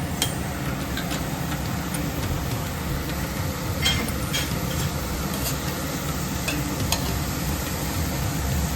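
Onions with garlic just added fry in a pan over a medium flame, giving a steady, close hiss and sizzle with a few light clicks of stirring throughout.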